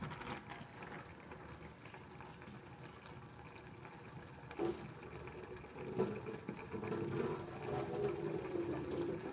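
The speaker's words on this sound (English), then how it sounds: "I'm just gonna get rid of the water very quickly" Water from a pot of cooked spaghetti is poured off without a strainer, with a spatula holding the pasta back, making a continuous faint splashing stream that grows slightly louder near the end.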